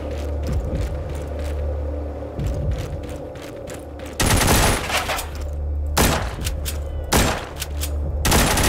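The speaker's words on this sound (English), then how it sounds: "That's a machine gun." Machine gun fire in the zombie video game The Walking Zombies 2, loud rapid bursts over a steady game soundtrack, with two longer sustained volleys near the end.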